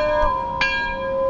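A bell rings twice in a truck dealer ad for a lifted 2019 Ford F-250, two bright metallic strikes with sustained ringing tones that hang on after each hit, loud and close with no talk over them.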